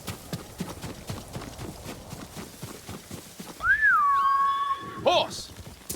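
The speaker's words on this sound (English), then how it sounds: "Horse!" Horse hooves clip-clopping in Ghost of Tsushima, a steady rhythmic trot of soft thuds with a clear whistle calling the horse partway through, followed by a brief whinny-like sound.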